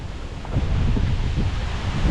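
Strong typhoon wind gusting around a house, a loud low buffeting roar that swells partway through and stays heavy, close to the microphone, with no speech.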